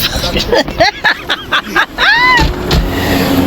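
A car driving along a rough road in Jamaica, a steady bumpy rumble and rattle with voices chattering over it throughout.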